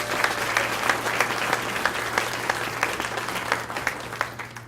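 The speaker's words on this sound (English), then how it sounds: "Would you please give them a round of applause?" A crowd at an athletic hall of fame ceremony claps steadily, a warm wash of applause with sharp individual claps standing out, continuing evenly throughout.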